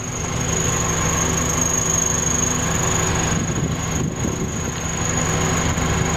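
A Honda CR-V with recently reworked exhaust drones steadily while driving, a continuous loud engine and exhaust rumble with a constant whine running alongside, no talking.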